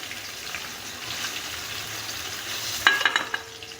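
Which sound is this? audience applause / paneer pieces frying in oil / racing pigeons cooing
paneer pieces frying in oil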